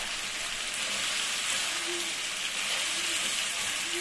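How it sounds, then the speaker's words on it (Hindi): Mutton sizzling in a karahi with ginger garlic paste, a steady close hiss and crackle of frying throughout, with no talking. "अब इसके साथ हम गोश्त को इसमें भूनेंगे।"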